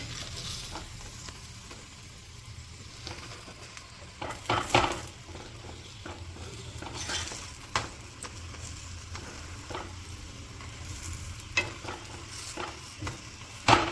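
A cabbage paratha cooks on a hot griddle, a soft continuous sizzle broken by scraping and clinks as it is flipped and pressed, close and fairly quiet with no talking.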